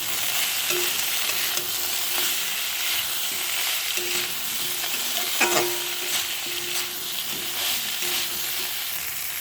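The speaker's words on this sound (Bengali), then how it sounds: "দিয়ে দেবো হলুদ গুঁড়ো, একটু নাড়তে করি" Vegetables frying in a pan as turmeric powder is stirred in, a constant sizzle with scraping stirring strokes and a few light clinks of the utensil against the pan.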